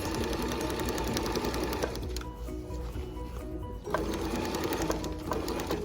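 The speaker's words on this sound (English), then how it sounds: "It is a bit thick because we're sewing our waistband and its interface." A sewing machine stitches through a thick waistband with its interfacing, a loud, close, continuous rapid chatter of the needle that pauses briefly midway before running on.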